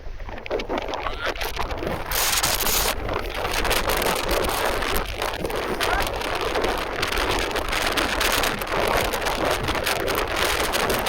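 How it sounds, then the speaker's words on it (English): Strong storm wind during Storm Ciaran in Jersey roars loud and continuous against the microphone, with gusty buffeting and no clear pauses throughout. "I don't know if you can hear Erica, I'm guessing not with the strength of that wind"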